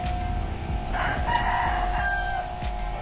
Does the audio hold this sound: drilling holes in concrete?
no